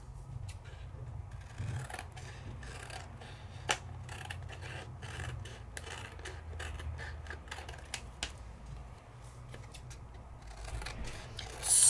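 Scissors trim around an embossed foil card, giving soft repeated snips and rubbing rasps close by, steady and quiet throughout with no talking.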